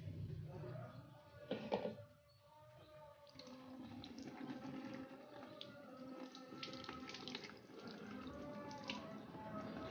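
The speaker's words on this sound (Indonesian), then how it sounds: "Kemudian sisanya kita siramkan juga di bagian batang bawah." Water is poured onto a potted Aglaonema plant, a continuous splashing trickle with a brief louder splash near the start, quiet and close with faint voices in the background.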